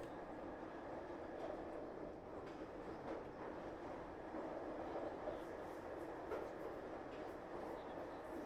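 Steady low rumble of a train riding along the rails inside a carriage, a continuous rolling drone with faint rhythmic clatter, used as a sound effect in an audio drama; a faint voice may sit beneath it.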